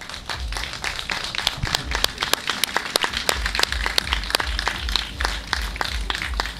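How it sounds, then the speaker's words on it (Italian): An audience applauds a manga artist at a fan event, with distinct, sharp individual claps standing out over a rumbling background, fairly close and steady across the whole stretch. "Quindi un grande applauso al maestro Hayama."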